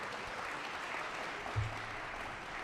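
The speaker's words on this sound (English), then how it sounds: "Please, let's give them one more round of applause." Steady, even applause from an audience after a taiko drumming performance at an awards event, a continuous wash of clapping with one brief low thump partway through.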